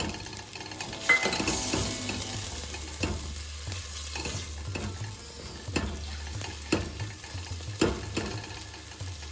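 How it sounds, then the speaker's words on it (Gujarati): Garlic sizzles in hot oil in a pan, a dense continuous fry with periodic utensil scrapes and taps over a low steady hum. "ગાર્લિક સિઝલ થાય એટલે અંદર નાખી દઈશું કડી પત્તા."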